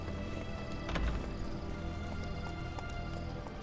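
Roach the horse galloping in The Witcher 3 video game, a steady run of hoofbeats under game music and ambience, moderately faint, with no talk.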